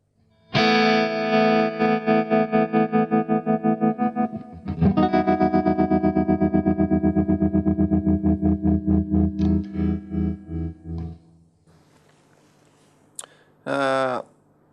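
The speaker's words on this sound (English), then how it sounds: "It's a tremolo sound, and I'm using the expression pedal in the unit to control the rate" Electric guitar chords pulse in a steady wobbling tremolo, the rate shifting as they ring, then fading into quiet noise with a brief final strum.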